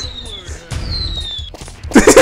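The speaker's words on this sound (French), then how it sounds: "les feux d'artifice, ça fait des bruits d'avions qui balancent des bombes" Video-game fireworks: whistling descending tones like falling bombs sweep overhead, followed by a burst of loud, crackling explosions near the end.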